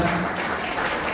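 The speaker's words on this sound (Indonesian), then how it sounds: "Berikan tepukan tangan." A congregation at a Christmas worship service gives a short, close burst of clapping that lasts about a second.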